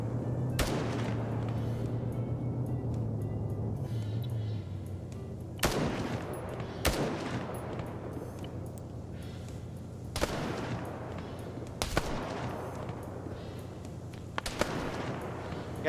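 Rifle fire in a one-life PvP military video game match, with sharp single shots ringing out at irregular intervals over a steady low background rumble.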